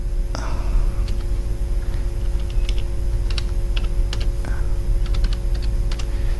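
Computer keyboard typing, with bursts of quick close keystrokes in irregular clusters over a constant low hum.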